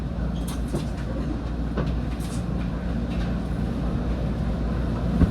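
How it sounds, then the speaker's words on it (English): A SEPTA Market-Frankford Line train, car 1187, rumbles along the track with a constant low roar and faint clickety-clack of wheels, heard from inside the front of the moving car, no talk. "Frankfurt train making all stops."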